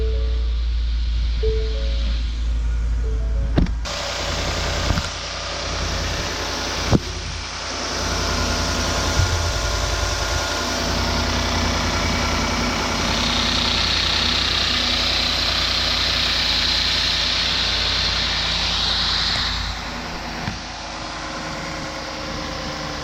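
A 2019 Ford F-150 pickup engine cranks and starts, then settles into a steady, even idle that runs on for about twenty seconds, heard close up under the hood on a cold day with a few brief knocks and no talk.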